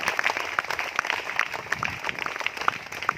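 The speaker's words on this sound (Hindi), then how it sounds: "उनके सम्मान में भी जोरदार तालियां दी जाए।" Applause at a Vivekananda Public School function honoring soldiers guarding the border, a steady patter of clapping from a crowd with individual sharp claps standing out, moderately close and unbroken throughout.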